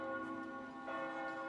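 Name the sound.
church bells pealing in memory of MH17 victims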